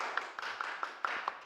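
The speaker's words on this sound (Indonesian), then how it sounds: "Beri tepuk tangannya." Audience applause greeting an invited speaker at a campus talk on organisational management, with a handful of separate claps spaced about every quarter second over a broad wash of room noise, fairly faint and no talking.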